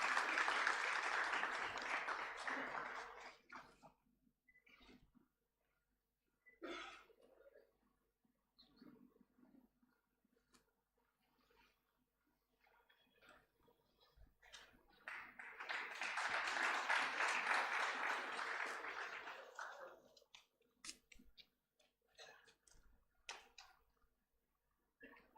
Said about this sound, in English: I request everyone to give a round of applause.